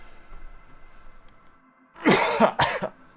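A quiet pause, then a sudden close cough burst in two or three harsh bursts near the end.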